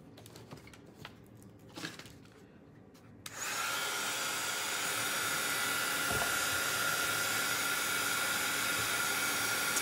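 A handheld dryer switches on with a click and blows a loud, steady hiss of air over a craft sunflower hanger. A few soft taps and clicks come before it, and the blowing then runs on without a break.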